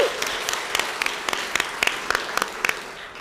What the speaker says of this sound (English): I think he deserves another round of applause, guys.